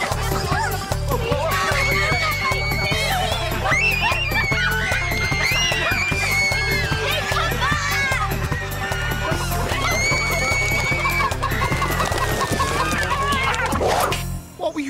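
Chickens cluck and squawk continuously over a steady background of music and busy farmyard noise, with voices mixed in.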